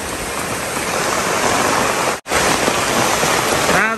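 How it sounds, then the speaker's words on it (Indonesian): Dense, steady rain pours down loudly, a continuous close wash of splashing water with a brief dropout midway. "sudah hujan ini"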